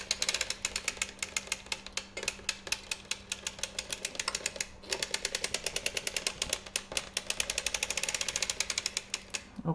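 A circular sock knitting machine turned slowly by hand gives a steady, fast train of small mechanical clicks and ratcheting ticks. A faint constant hum sits underneath the whole time, and no one speaks.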